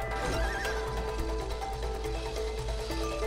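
A horse neighs in the It Takes Two video game, one drawn-out whinny over a steady bed of game music, with clip-clop and hoof sounds and no talk.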